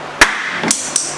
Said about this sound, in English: Big frickin' hammer, BFH.